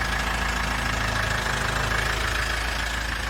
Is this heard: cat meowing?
no